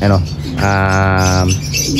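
Racing pigeons in a training loft give a harsh squawking call over steady low cooing, with someone talking nearby.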